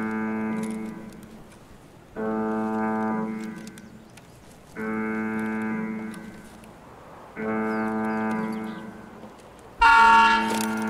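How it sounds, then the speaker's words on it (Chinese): Armored train horn in the game Escape from Tarkov blares in four long, loud tonal blasts separated by short pauses, followed by a sharp, harsh burst at the end. "装甲车在鸣笛一声代表快出发了"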